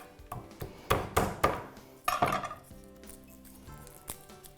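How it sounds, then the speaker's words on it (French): A knife chops two large garlic cloves for homemade pork dumplings, a quick run of sharp board knocks followed by a few sparser taps over soft background music. "Je vais les hacher finement."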